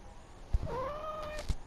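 A pet cat gives one drawn-out, rising then falling meow, close and fairly loud, framed by a couple of soft knocks, with no talking over it.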